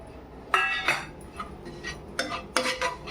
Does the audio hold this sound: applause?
no